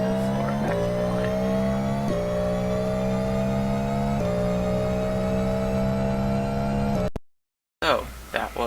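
A GT3 race car in a racing video game accelerates hard toward the line, engine revving upward through several gear shifts in steady rising whines, loud and continuous before cutting out abruptly.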